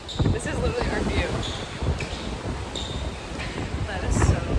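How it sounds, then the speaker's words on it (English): Strong wind gusts outdoors on a Bahamas trip, buffeting the microphone in a steady low roar with brief louder bursts, while people talk over it. "It's so windy."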